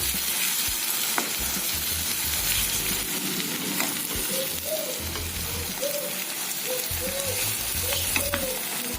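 Onion frying until red with ginger-garlic paste added for an all-purpose gravy, a dense continuous sizzle under repeated scraping strokes of a spoon in the pan, close and steady.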